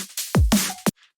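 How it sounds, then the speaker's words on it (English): A reversed kick drum from a drum and bass breakdown, heard alone: a few swelling low booms that build and cut off abruptly, followed by a short sharp hit and a faint tail. "what I've done is I removed everything but the kick, and then I've just reversed it, so it sounds like this."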